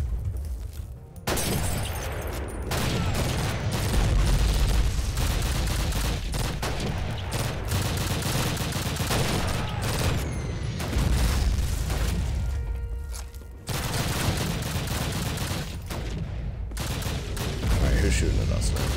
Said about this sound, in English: Alright, who's shooting at us now?